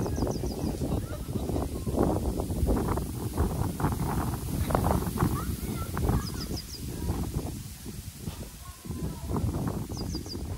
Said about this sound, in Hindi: जो हवा चल रही है ना, इससे अंदाज़ा लगा लो कि क्या हवा है।